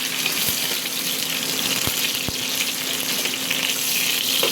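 Garlic sautéing in hot oil left from frying fish, for sinigang sa miso with matambakon: a steady, close, continuous sizzle with a few sharp clicks of a utensil, no talk.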